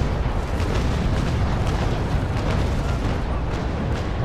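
Warship cannons firing in a Naval Action battle between the Indefatigable and the Belle Poule, heard as a dense, continuous roar of booming broadside fire with rumbling low end throughout.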